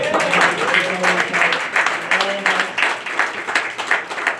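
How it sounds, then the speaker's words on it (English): An audience at an anniversary gala gives a round of applause, sustained dense clapping from many hands in a hall, steady and fairly loud throughout. "Give her another round of applause"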